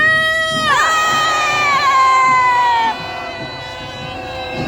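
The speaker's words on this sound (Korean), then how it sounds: "함성 시작!" A protest crowd at a candlelight march roars with cheering and shouting. The sound is loud and sustained, with a rising chorus of voices and a high whooping shout on top, easing slightly toward the end.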